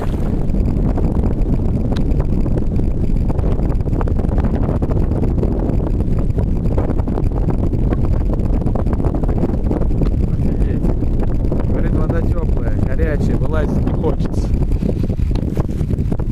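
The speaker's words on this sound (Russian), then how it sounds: "но вообще ветрюга, вы, наверное, его слышите." Strong wind on the Oka river roars continuously into the microphone, a loud, buffeting rumble with gusty rustling and no letup, heard alone without any talk.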